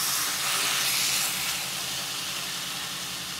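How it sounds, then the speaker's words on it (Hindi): Marinated chicken sizzles in butter in a nonstick pan over a low flame, a steady bright hiss that swells briefly at first and then settles into an even, close crackle. "अब उसमें मैं ये अपनी मैरिनेटेड चिकन डाल दूंगी।"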